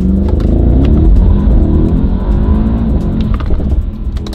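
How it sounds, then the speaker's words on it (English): A McLaren 570S Spider sports car drives along a California freeway, its engine droning steadily and loud throughout with a few rising rev swells, close and continuous with no talking. "we're driving a McLaren 570S Spider today"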